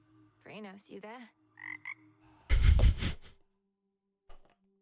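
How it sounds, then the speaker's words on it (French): Frog croaking in the video game Hades 2, warbling croaks followed by a loud, rough burst and a short final croak, close and clear with no talk. "Oh, la petite grenouille."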